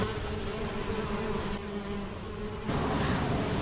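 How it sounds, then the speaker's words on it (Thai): Bees hum around a beehive in a steady, dense, loud buzz that swells and drops slightly as insects fly near, with no voices over it. "นั่นลังผึ้งนะ"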